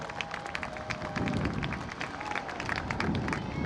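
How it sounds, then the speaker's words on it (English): A crowd applauds the homecoming court at a college football game, with scattered claps and crowd noise spread across an open stadium, distant and fairly faint. "please give a big round of applause to our homecoming court"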